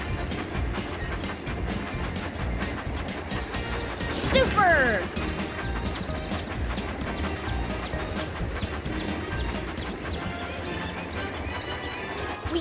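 Toy train running on tracks in a children's mobile game, a steady rhythmic chugging clatter under continuous background music, with a brief swoosh of game effects and a voice speaking midway.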